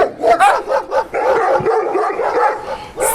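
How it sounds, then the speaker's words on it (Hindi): Several dogs bark and yip in a rapid, overlapping flurry as a pack chases a jackal through town lanes, the barking loud and near and continuing steadily throughout. "सभी कुत्ते उसका पीछा करने लगे।"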